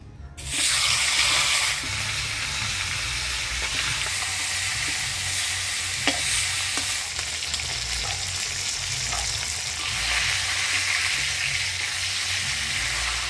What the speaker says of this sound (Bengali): পুঁই মিটুলি রান্না করার জন্য আমি মাছের মুড়াটা ভেজে নিব।